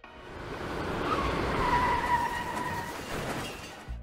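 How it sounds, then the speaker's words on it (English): A white truck skids across lanes and into a ditch, tires squealing in a long rising screech over road noise, ending in a low thump, with no talk. "a white truck from another lane crosses, skidding in front of him and into a ditch"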